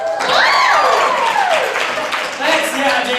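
A high school theatre audience at a performance of Oklahoma cheers and applauds loudly, with whoops rising and falling over steady clapping, while voices mix into the noise.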